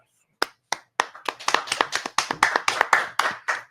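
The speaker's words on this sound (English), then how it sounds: "the round of applause, it's like real" A few people in a studio clap, starting with scattered single claps that quickly build into a brisk, steady round of applause close by.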